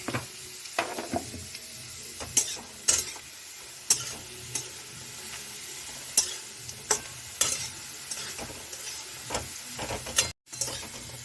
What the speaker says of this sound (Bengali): সর্ষে দিয়ে ফোড়ন দেওয়া হয়ে গেছে